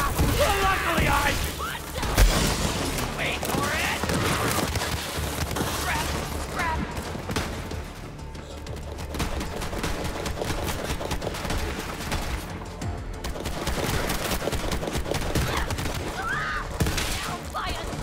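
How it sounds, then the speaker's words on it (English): Sustained gunfire in the video game Borderlands 3, dense rapid bursts and shots layered with impacts and shattering, loud and near throughout, with voices talking over the fighting. "Who's shooting, please?"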